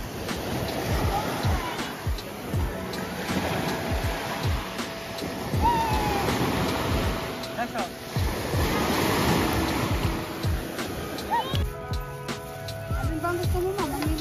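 Ocean surf rolls onto a white sand beach at Morong, Bataan, with waves breaking and washing in steadily throughout, and people chatting faintly over the water.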